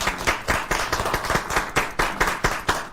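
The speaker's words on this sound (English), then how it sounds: "Let's clap for our PS Betsy Modoni" Rhythmic group clapping from an audience at a blue economy public forum, loud and close, with regular beats repeating in unison throughout.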